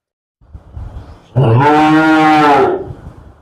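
A single cow lets out a loud, drawn-out moo at a small calf farm, close by, after a second of quiet rustling.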